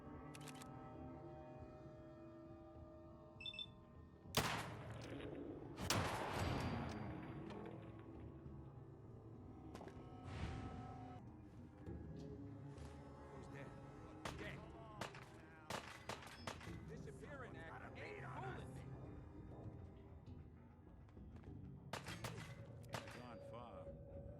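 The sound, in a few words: 44 Magnum gunshot in Fallout 4 video game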